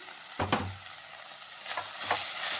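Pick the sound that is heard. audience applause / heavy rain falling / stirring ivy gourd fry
stirring ivy gourd fry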